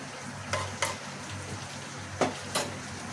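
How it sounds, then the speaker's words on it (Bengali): Water with a little salt and a spoon of ghee bubbling in a pot for steamed rice cakes, a steady low roiling hiss with a few brief scraping clinks from a utensil, moderately close and with no talk. "জল ফুটে গেছে"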